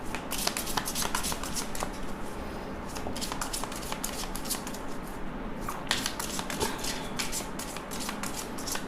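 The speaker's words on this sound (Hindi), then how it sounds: "यहाँ पे लेफ़्ट साइड में मैं आपकी फीलिंग्स के लिए कार्ड निकालूंगी" Tarot cards shuffled and drawn from a deck at close range, a steady run of crisp riffling and flicking snaps through the whole stretch with no talking.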